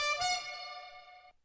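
A silly novelty horn from a Minecraft add-on, playing a bright, buzzy, sustained honk with rich harmonics that holds steady for about a second before cutting off sharply, loud and alone.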